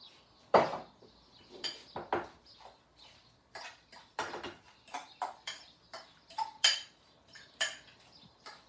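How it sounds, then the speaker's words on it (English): Guacamole of avocado with coriander, chili, salt and pepper is mashed with the back of a fork in a bowl. Close, irregular taps and clinks of metal on the bowl repeat a dozen or more times. "I've been mashing this for about a minute using the back of a fork"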